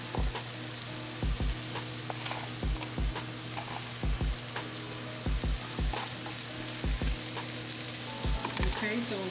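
Orange, green and red bell peppers fry for fajitas in a pan, a continuous sizzle overlaid with regular knocks and scrapes of a utensil stirring them around.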